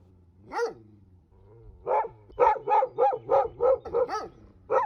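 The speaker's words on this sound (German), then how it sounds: "Das Bellen wurde langsam, aber sicher immer lauter." Dogs bark at night: a single bark, a pause, then a quick rhythmic volley of barks, fairly close with nothing else in the background.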